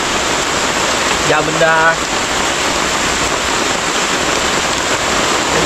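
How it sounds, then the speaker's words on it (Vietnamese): Heavy rain pours down steadily beside a river during a fishing trip, a dense continuous hiss with a brief spoken voice near the start. "Rồi mưa to lắm rồi các bạn ơi."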